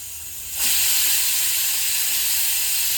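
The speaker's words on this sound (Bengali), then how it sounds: "একটা সিটি হয়ে গেছে, আর একটা সিটি মারলে আমি বেগুনটা নামিয়ে নেব।" A pressure cooker whistle releases steam with a loud, sustained hiss that starts abruptly and continues steadily, while eggplant boils inside on a gas stove.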